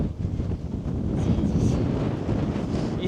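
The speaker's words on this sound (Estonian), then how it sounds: "Issand, mis tuul siin on. Tuul on räme." Strong wind buffets the microphone on an exposed hilltop 360 metres up along a hiking trail, a steady loud rumbling roar with gusts that swell throughout.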